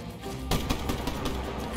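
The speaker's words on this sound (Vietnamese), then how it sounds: "Shotgun bắn tự động nha các bạn" An automatic shotgun in the video game Call of Duty Black Ops 3 fires a rapid, loud burst of shots, the blasts coming in a steady repeating rhythm over a constant game background.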